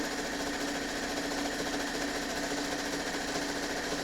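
A home sewing machine stitches quilt pieces in one steady, unbroken mechanical whir, its fast needle rhythm humming evenly and close by, with no voices.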